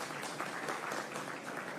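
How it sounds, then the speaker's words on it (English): A crowd applauds the Prime Minister at a national identification system pilot launch ceremony, a faint, distant, steady wash of clapping. "I want us to give the Prime Minister a big round of applause"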